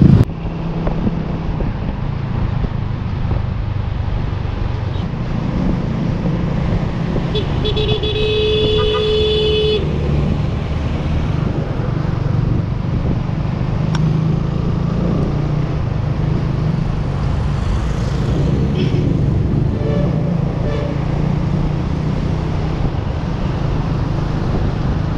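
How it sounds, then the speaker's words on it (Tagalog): Road traffic at the start of evening rush hour, heard from inside a moving vehicle: a constant engine and road rumble with wind buffeting, and a few short car horn toots rising briefly above it. "Umpisa na yung traffic."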